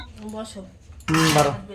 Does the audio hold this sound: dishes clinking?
yes